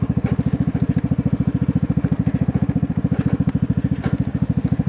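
A Vespa 250 GTS scooter rides along a country lane, its single-cylinder engine thrumming in a fast, steady pulse close to the rider with faint wind noise above.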